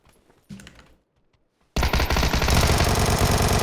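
Gunfire in the battle royale game PUBG: a short, quiet thump and some faint noises, then a brief silence before a loud, sustained burst of rapid automatic fire.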